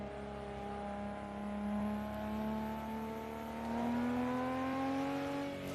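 A Nissan Skyline's engine revs in Assetto Corsa on the Nürburgring, played in VR. The tone climbs steadily and holds loud throughout, with steady tyre and road noise under it and no talk.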